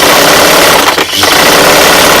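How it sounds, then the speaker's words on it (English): Loud continuous whir of an industrial sewing machine stitching a dress made from T-shirts, running steadily up close with a brief dip in the middle. "industrial machine that I'll be using, and then I will continue stitching the top the same way"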